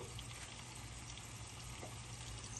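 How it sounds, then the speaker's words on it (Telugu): Tempering spices frying in about a tablespoon of oil over low heat, giving a soft, steady sizzle that stays faint and even throughout. "ఒక టేబుల్ స్పూన్ ఆయిల్ వేసేసుకొని పోపు చేసుకుందాము"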